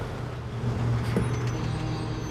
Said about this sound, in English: Cars passing by faster than time.